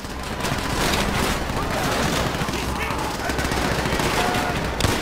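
Machine gun fire in the World War II shooter Call of Duty: World at War, a loud, continuous rattle of rapid automatic bursts across several seconds amid battlefield noise.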